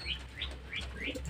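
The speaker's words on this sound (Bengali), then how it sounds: "এই যে পায়রাগুলো ঘোরাফেরা করছে" Pigeons shuffling about, with soft, quick wing flaps and faint chirps in a brief, quiet moment.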